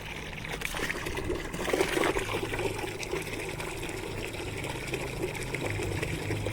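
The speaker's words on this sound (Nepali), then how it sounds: "सिमसिम पानी आउँदैछ" Water trickles and pours steadily from a tap as a container fills in a small room in the morning. The flow is close and continuous, with a faint mechanical whir underneath.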